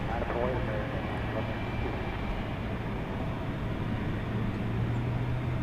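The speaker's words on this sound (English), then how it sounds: "So we have a passel of aircraft which are poised for takeoff." Steady, dense jet engine rumble from aircraft queued for takeoff at DFW Airport at night, a continuous low roar with a faint tonal whine, with speech over it.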